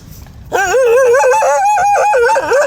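Several dogs give drawn-out, wavering yelps and howls. The calls start abruptly and continue almost without a break, loud and close, over a faint background murmur.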